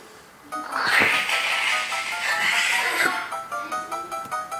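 A cartoon cat in the Cat Mario video game screeches and yowls in a loud, sustained burst lasting several seconds, with no talk over it.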